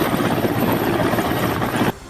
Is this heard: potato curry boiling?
no